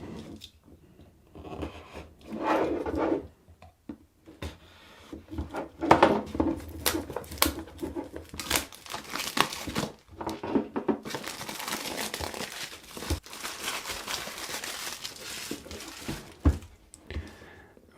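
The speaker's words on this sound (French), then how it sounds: "on va ouvrir gentiment la boîte" Cardboard and plastic packaging of an OPPO A72 smartphone box being opened, with close crinkling, rustling, scraping and tearing in irregular bursts and pauses over a long stretch, no talking.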